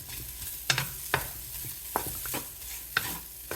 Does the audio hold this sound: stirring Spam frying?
yes